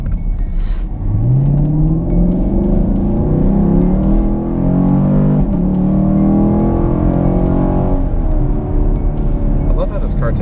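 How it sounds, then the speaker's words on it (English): A Chevrolet Camaro fitted with a cold air intake accelerates from a start, its engine note climbing through rising revs with a loud, rumbling intake roar heard from inside the car over several gear pulls. "I love how this car takes off, and I really love the way it sounds with a cold air intake."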